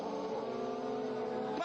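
A Ferrari Formula 1 engine hums at very low revs during Spanish Grand Prix practice, a steady, faint tonal drone with layered harmonics and no rise in pitch, alone without voices.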